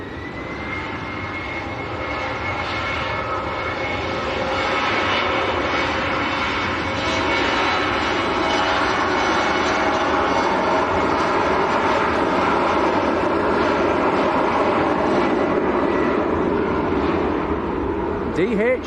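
A steady, loud roar and whine from an aircraft jet engine carries across Manchester airport, holding constant throughout and swelling slightly midway. A voice talks over it at times.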